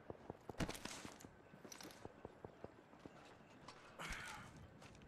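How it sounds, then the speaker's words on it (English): Footsteps in the video game Apex Legends: a run of quick, light, clopping steps at a brisk, even pace, faint and somewhat distant, with brief bursts of noise around them. "No, I heard footsteps."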